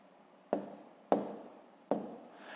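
Numbers being written by hand for a school maths exercise: three short, quiet pen strokes scratch across paper about half a second apart, alone in a still room.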